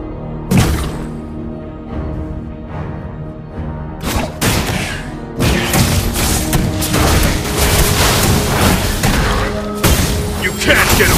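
Gunshots from the character Roger in the Mobile Legends mobile game ring out in bursts amid a dense battle mix, with sharp booming shots and an in-game voice line over the action.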